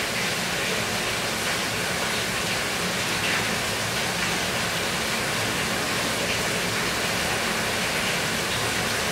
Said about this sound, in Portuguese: Tá que chove bem bom ali, gente. Bem gostosa essa chuva.